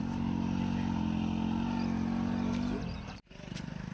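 A motorcycle climbs a steep hill road near Bhatvas village, its engine droning loud and close at steady high revs, then easing off before a sharp cut-out and a rough, pulsing restart.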